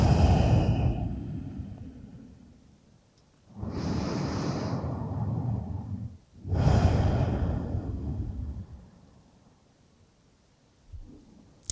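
Slow, deep breaths drawn in and let out during a yoga session on a cabin deck: three long, fairly close breath cycles, each a soft airy rush, with quiet gaps between them and no talking.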